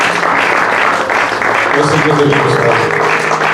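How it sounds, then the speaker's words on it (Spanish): A church congregation claps loudly and steadily during worship, a dense, close wash of applause with a voice speaking over it. "Apláudale fuerte, mi hermano."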